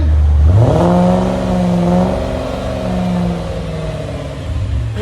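A 2003 Ford Thunderbird 3.9L V8 with Borla S-Type dual exhaust revs up from idle, holds a deep rising drone, then eases back down. Loud and close.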